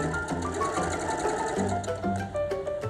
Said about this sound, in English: fold the edge in 1 to 2 centimeters and sew with a straight stitch all the way around